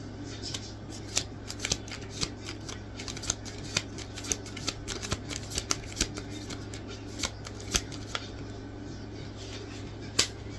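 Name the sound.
tarot cards being shuffled, cards falling out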